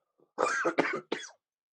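Three harsh coughs in quick succession, close and fairly loud, with a short gap before the last one.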